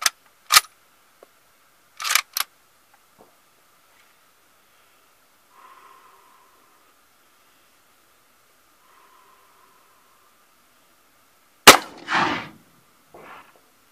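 A Mosin Nagant 91/30 rifle firing while plinking outdoors: a few sharp cracks early, then a long quiet gap and a final loud report with a trailing rumble, followed by faint handling noise.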